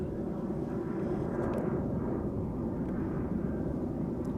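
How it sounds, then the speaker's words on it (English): A KLM Boeing 737 jet departing Amsterdam Schiphol's runway 24 bound for Copenhagen, heard as a steady, broad low engine roar that stays loud and even throughout without any talk. "KLM flight to Copenhagen, taking off and flying over us."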